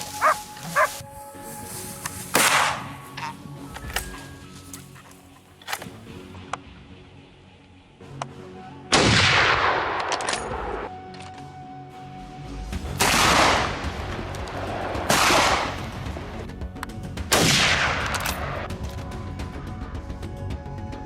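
Gunfire during a wild hog hunt on Texas farmland: several loud, sharp shots spaced a few seconds apart, some echoing, with barking dogs and background rumble between them.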